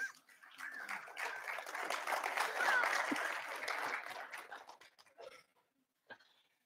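A Baptist church congregation breaks into applause, a swell of many hands clapping that builds, holds steadily, then tapers off into scattered claps and quiet.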